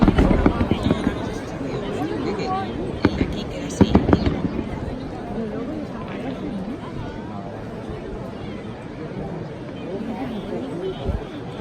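Fireworks burst at a distance in a quick series of sharp cracks and pops during the first four seconds, then more scattered bangs, while people chatter and talk nearby throughout.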